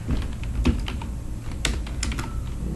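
Computer keyboard typing while coding a web page: quick, irregular keystrokes close to the microphone, with a few sharper, louder key hits among the steady clatter and no talking.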